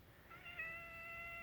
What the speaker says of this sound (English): Don't mind the meowing. That's just the cat.